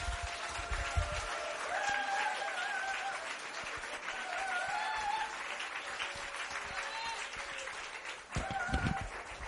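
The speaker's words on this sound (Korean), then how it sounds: "박수하겠습니다." Congregation applauding while standing at a church conference evening session, a steady broad wash of clapping sustained throughout, with faint tonal sounds and voices mixed in underneath.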